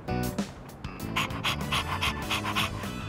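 A dog in Persona 3 Reload pants in quick, close, rhythmic breaths, steady and prominent throughout with no speech.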